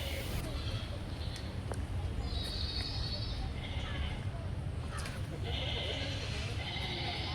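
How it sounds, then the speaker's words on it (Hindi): Goats bleat from a rural village farm scene at a garden, a few calls rising over steady crowd babble and outdoor noise, at moderate distance. "आवाज़ भी आ रही है बकरी की।"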